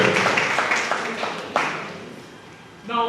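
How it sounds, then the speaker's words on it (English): Audience applause at a foundation event, a dense patter of clapping that fades over a few seconds before a voice begins speaking. "let's give them a round of applause"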